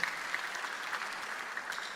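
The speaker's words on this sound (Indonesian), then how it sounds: "Ada tepuk tangan dulu yang meriah buat Tuhan kita" Brief, fairly faint applause from a church congregation during an online worship service, a soft spread of clapping with a few distinct claps standing out.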